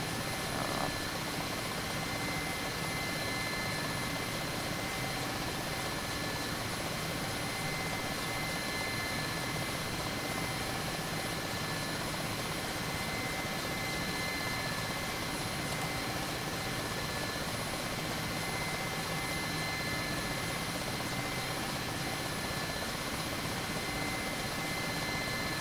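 An Mi-8 helicopter flies through a DCS World game in a steady, dense rotor and turbine drone that stays loud and unbroken throughout, with no voices.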